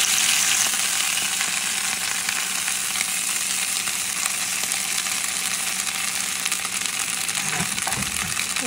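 Bottle gourd leaves fry in a kadai with a steady, close, broadband sizzle that runs unbroken for several seconds, with a short clatter of stirring near the end.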